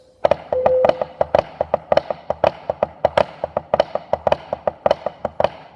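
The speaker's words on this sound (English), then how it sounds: "If I played something with open flams, it might sound like this." Crisp drum strokes on a practice pad in a steady rhythm, each hit a loose double stroke with the grace note clearly separated from the main note.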